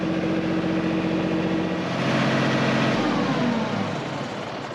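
A tractor engine runs steadily as it is eased back into a parking spot beside a plow and pallet mover, a mid-pitched drone that swells briefly and then settles lower, close and continuous with no talk.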